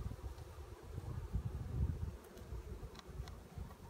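Honey bees hum in a low, shifting buzz close to the microphone while a hive is opened for its first spring inspection, with faint rustling and a few soft clicks over the drone and no speech.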